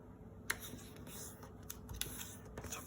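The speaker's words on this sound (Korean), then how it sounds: "이번에는 대문 접기를 할 겁니다" Paper being folded for a paper bracelet, with a few sharp creasing snaps and soft rustles spread over a couple of seconds, close and quiet, with no talking.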